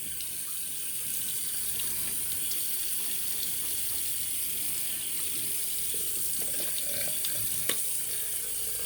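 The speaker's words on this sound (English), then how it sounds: "So I'm going to get a little water on the brush, get some more moisture there." Water runs from a bathroom tap to wet a shaving brush, a continuous close splashing stream that holds steady throughout with a few small clinks.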